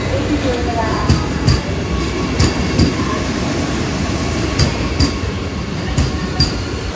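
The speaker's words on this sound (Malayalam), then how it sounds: "തിരുവനന്തപുരത്ത് നിന്നും കോട്ടയം, എറണാകുളം ടൗൺ, ഷൊർണൂർ ജംഗ്ഷൻ വഴി കത്തഹാസ് വരെ പോകുന്ന വന്ദേ ഭാരത് എക്സ്പ്രസ് ചെങ്ങന്നൂർ മൂന്നാമത്തേക്ക് എത്തിച്ചേരുന്നതാണ്" A Vande Bharat Express pulls into Chengannur station in Kerala with a rolling rumble and repeated wheel clicks over rail joints. A platform announcement voice runs over the train noise.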